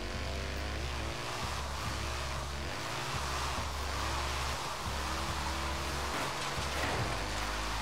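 Steady rain hisses over a car engine's continuous drone in the Forza Horizon 3 racing game, with a Mercedes SLS AMG drift build driving through a wet race.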